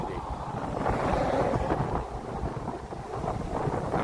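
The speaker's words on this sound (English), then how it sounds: "Very windy." Strong wind roars and buffets the microphone in uneven gusts, a heavy low rumble rising and falling throughout.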